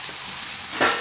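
Green onion sizzling in hot oil in a pan for a red chili and fresh turmeric curry, a steady broadband hiss throughout that swells louder near the end as the onion hits the pan, with no talking.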